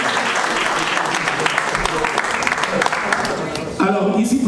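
Audience applause at a political meeting of a youth and women's league in Paris, a dense steady wash of clapping throughout, with a voice rising over it near the end.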